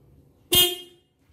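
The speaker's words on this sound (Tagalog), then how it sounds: "ito ang kanyang stock horn sound" A single short stock horn honk from a Toyota Vios, loud and close, sounding for about half a second and then cutting off into quiet.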